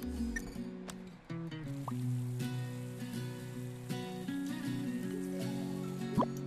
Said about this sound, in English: Watering can.